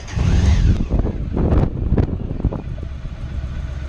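A 1995 Honda ST1100 motorcycle engine runs with a low, steady rumble, heard close and loud under heavy wind buffeting, with no talking.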